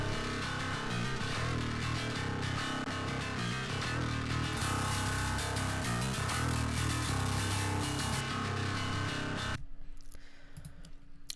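Bass track from a metal mix with its low end filtered out, a dense, loud and steady part that plays for about nine and a half seconds, then stops, leaving only a faint hum.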